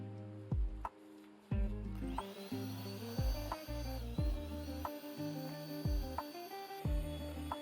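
A mixer beats eggs and sugar for brownie batter with a quiet, steady whirring whine, broken by regular rhythmic knocks roughly every second.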